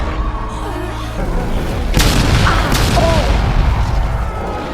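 Gunfire from the kaiju film Gamera vs. Jiger comes as a burst of booming, explosive shots over a steady rumbling background, loud and close, with a dubbed voice heard early on.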